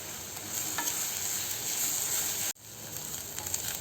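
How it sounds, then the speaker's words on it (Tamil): Onions sauté in a pan with curry leaves, giving a steady soft sizzle and frying hiss with occasional stirring scrapes, briefly cut off before resuming. "வெங்காயம் பார்த்திங்கன்னா நல்லா ஒரு கோல்டன் கலருக்கு மாறணுங்க. அது வரைக்கும் நம்ம நல்லா வதக்கணுங்க."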